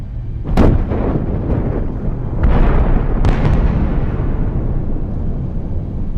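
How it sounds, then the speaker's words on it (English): Explosion effect for the Halifax blast of the munitions ship Mont Blanc: a heavy, booming detonation followed by several further deep blasts and a long rumbling roar, loud and low. "The explosion came 31 seconds past 9:04 a.m."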